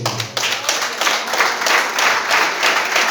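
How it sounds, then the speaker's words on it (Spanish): Church congregation bursting into steady, dense applause after a call to clap for God, the clapping filling the room loudly and evenly throughout. "Dale un aplauso a Dios."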